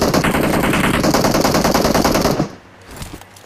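Sustained automatic gunfire in the battle royale video game PUBG, a loud rapid burst lasting a couple of seconds before cutting off abruptly into quieter game ambience.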